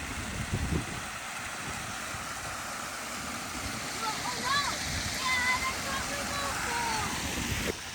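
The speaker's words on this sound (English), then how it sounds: "you can see the water falling under the bridge there" Landscaped waterfall spilling under a bridge: a steady rushing splash, moderately near, with a short low thump early on and bird chirps faint in the background.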